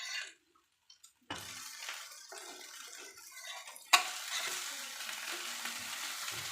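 Moong dal dosa sizzles on a hot pan, a soft bubbling fry with brief quiet gaps, then a sharp clatter and a steadier, brighter sizzle that carries on to the end.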